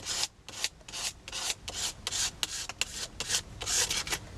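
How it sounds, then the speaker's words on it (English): Scraper dragged across paint on a mixed media card, a close series of quick rasping scrapes in an uneven back-and-forth rhythm, with no talking. "I'm just going to take my scraper and I'm just going to scrape some colour back here."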